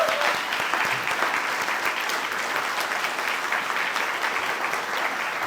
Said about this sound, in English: I want to give you kind of a round of applause